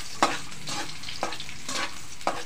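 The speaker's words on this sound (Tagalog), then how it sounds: "Haluin natin." Garlic frying in a pan while being stirred, with four sharp scraping strokes spaced about a second apart over a steady close sizzle.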